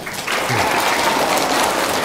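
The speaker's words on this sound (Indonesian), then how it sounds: "Tepuk tangan lagi" Audience applause at a Hari Santri commemoration at an Islamic boarding school in Atambua, a dense, steady wash of many hands clapping at close range that holds for about two seconds.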